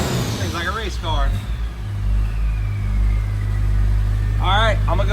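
A school bus running an upgraded engine with a custom exhaust and added horsepower rumbles with a loud, low, steady drone that swells into a rev, while someone talks over it.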